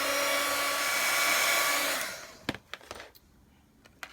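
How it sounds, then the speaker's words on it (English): A heat tool blows a steady, loud whoosh while melting gold embossing powder on paper flower blooms, then switches off, leaving a few faint taps and clicks. "I start the heat embossing process with my heat tool."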